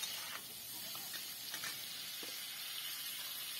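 Fish heads frying with spiced masala while being stirred, a faint steady sizzle with soft scattered clicks of the spoon against the pan.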